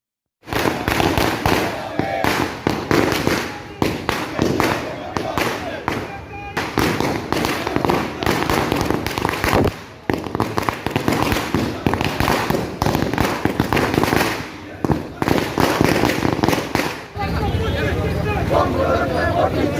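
Firecrackers burst in rapid, dense strings at a Youth Congress victory rally in a town market square, the loud crackling volleys broken by short gaps, with crowd noise and a passing vehicle underneath.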